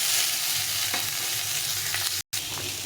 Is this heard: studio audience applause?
no